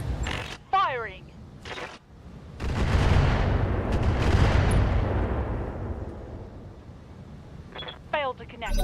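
Mech lasers firing in the RogueTech video game: a loud, sustained burst of crackling, roaring energy fire lasting several seconds, slowly fading, with voices talking before and after.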